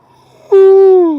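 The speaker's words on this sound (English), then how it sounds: "Getting the yawn on." A man's loud, drawn-out yawn, bursting in suddenly and holding a steady falling tone for under a second, with no other sounds around it.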